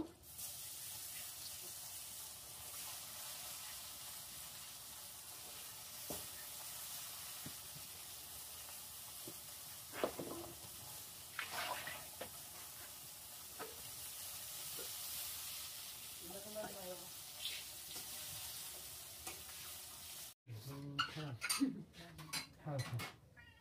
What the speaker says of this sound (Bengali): মাছ ভাজ শেষ, বেগুন গুলা ভেজে নিব।